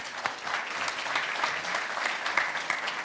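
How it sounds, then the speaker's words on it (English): Audience at a tech festival in Glasgow applauds a speaker being introduced, a continuous moderate clapping with distinct individual claps standing out. "Your applause, please, for Ollie Norman."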